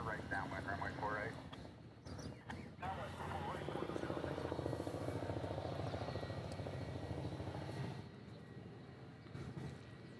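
A Boeing 757 airliner departs Honolulu airport with a steady, loud, droning engine roar. Voices speak over it for much of the run.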